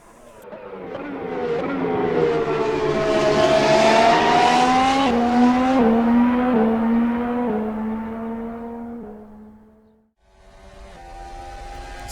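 A race car in Assetto Corsa on a half-speed lap at Imola, its engine note climbing steadily through the gears, loud and close, then cutting out briefly before rising again with no talk.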